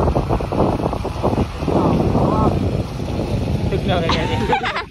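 Strong wind roars and buffets the microphone in a continuous loud rush, with people talking beneath it.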